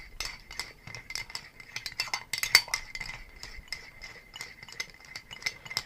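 A spoon stirs a cocktail in a glass, giving a run of quick, bright clinks and rattles of metal against glass and ice, close and fairly quiet.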